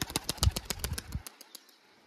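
A rapid flurry of soft pigeon wing flaps and fluttering close by for about a second, then quiet rustles trailing off.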